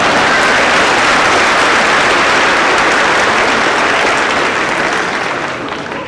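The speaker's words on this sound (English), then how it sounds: "Let's give them a round of applause." A large audience at a high school graduation ceremony applauds steadily for several seconds, loud and dense, fading slightly at the end.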